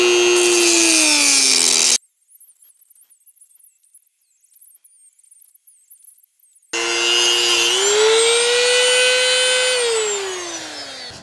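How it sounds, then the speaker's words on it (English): A Dremel rotary tool with a thin cut-off wheel whines loudly at close range, its pitch sliding down as it bites, then falling silent for several seconds before whining again, rising and easing off, during a shower drain DIY job. "Using my Dremel tool with the easy lock,"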